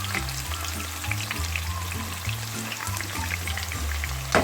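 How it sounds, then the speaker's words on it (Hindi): Chopped onions frying in hot oil for a lamb charangli dish, a steady close sizzle with soft stirring scrapes and a low rumbling hum underneath, no voices. "अब मैं इसमें ये प्याज भूनने लगी हूँ मैं।"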